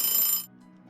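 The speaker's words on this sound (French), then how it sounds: "J'irai sonner, pour voir s'il y avait quelqu'un." Doorbell rung at the front door of a house, a bright electronic chime lasting under half a second before cutting off to a quiet room hum.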